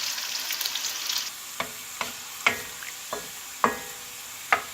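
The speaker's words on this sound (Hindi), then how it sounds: "1 कप ऑयल डालकर इसमें मैंने प्याज डाल दिए हैं। प्याज को ब्राउन करना है।" Sliced onions sizzle in a cup of hot oil for an Indian potato bhurta, a steady crackling fry punctuated by about seven sharp clicks as a spoon stirs them in the pan.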